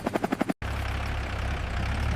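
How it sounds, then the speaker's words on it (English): A helicopter sound effect follows a short burst of rhythmic chopping: a steady, loud low rotor whir that continues without a break, with no voices over it. "Yes, a helicopter."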